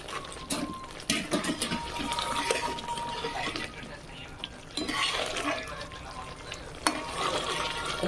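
Fried paneer is stirred into a simmering gravy for paneer tikka masala, a close bubbling sizzle with wet stirring and scraping strokes that come in bursts.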